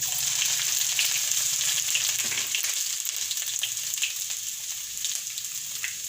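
Garlic and ginger frying in a pan for a Gujarati chavana shaak, a steady close crackling sizzle that continues throughout with no talking.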